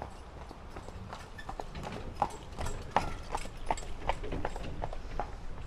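Hooves of a horse pulling a jaunting car on a park path near Muckross House in Killarney clip-clop in a steady, even walking rhythm at moderate distance over a faint outdoor background.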